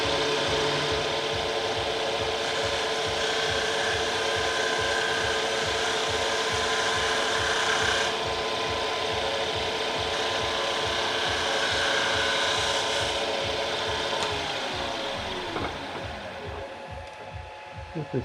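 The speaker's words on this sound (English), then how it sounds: "I'm going to hit this though with a detail gouge." Detail gouge cutting end grain on a wood lathe while turning a magnifying glass stand, a continuous rhythmic scraping and whirring from close by that fades near the end, with occasional quiet talk.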